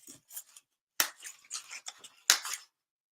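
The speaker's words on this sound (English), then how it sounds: "So I have my wire cutters, and I just opened up the little quick release knob here, and then I can cut off the metal" Wire cutters snip metal wire in a few sharp, close clicks, with short rustling and scraping handling noises between the cuts, against a quiet background.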